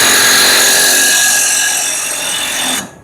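A power drill whirs loud and steady for nearly three seconds, a bright sustained tone that dips slightly in the middle before cutting off abruptly.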